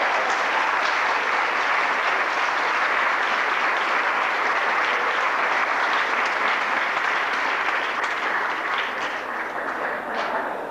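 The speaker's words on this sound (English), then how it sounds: "Can you give a round of applause to Mr. Rob Hall and Leah Johnson?" A sustained, loud round of applause fills an auditorium as the audience welcomes two speakers to the stage for a fireside chat at Howard University, continuous and even throughout.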